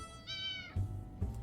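A cat meows in the video game 60 Seconds Reatomized: one clear, drawn-out meow followed by two short low thumps, heard alone and fairly quiet.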